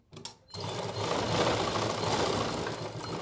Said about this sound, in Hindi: यहाँ पे एक साइड से सिलाई शुरू करें और 1 इंच तक सिल के छोड़ दें।